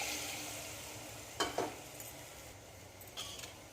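Chopped onion and chili tempered in a pan of hot oil for a mixed-greens keerai mash give a steady soft sizzle, close and quiet, broken by a couple of light metal clinks as the pan is stirred.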